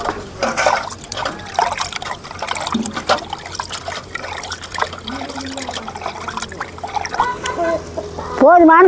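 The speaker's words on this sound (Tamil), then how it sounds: "இதுக்கு மேலே புளி தண்ணி ஊற்றிக்கலாம்." Tamarind water poured into a banana leaf curry in a village kitchen, a close continuous splashing trickle with clinks of the vessel, ending in a brief louder rush.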